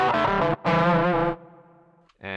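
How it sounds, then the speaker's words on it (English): Ring modulator effect from a Zoom GFX 707 guitar processor turns guitar notes into harsh, metallic, bell-like tones, two loud bursts followed by a thinner ringing sustain before another note starts. "We've got a couple of really wild sounding effects, like a ring modulator."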